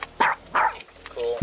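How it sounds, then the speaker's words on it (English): A small chihuahua serving as a police dog barks inside a car, two sharp yaps close together, then a whine and another bark, loud and near with a faint hum underneath. "The police dog sounds like it's a chihuahua."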